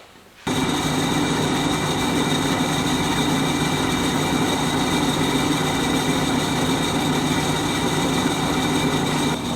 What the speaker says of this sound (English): I'll center punch it and drill a pilot hole